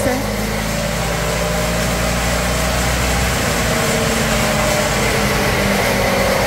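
A remapped stock Yamaha Fazzio 125 scooter held at full throttle gives a constant high buzzing engine whine with a steady low drone, loud and unbroken through the clip.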